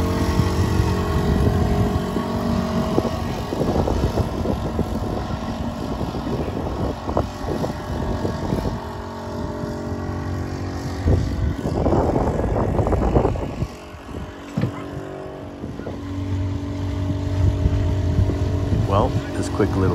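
A small 2.5 horsepower four-stroke outboard motor drives a dinghy, droning steadily and loudly with shifting pitch as it runs, while a person talks over it in places.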